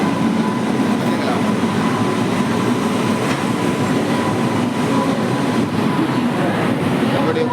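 The Tirukkural Express rumbles steadily and loudly on its run from Agra to Chennai, with continuous wheel and track noise, heard from on board or close by.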